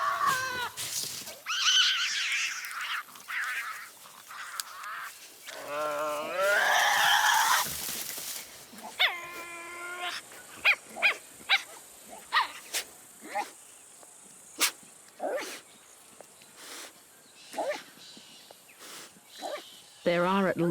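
Tasmanian devils vocalizing around food, a string of harsh growls, whining cries and sharp barks and snorts of varying length, close and fairly loud, with quieter scuffling between calls.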